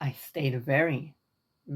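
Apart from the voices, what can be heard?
No everyday noise stands out behind the speech.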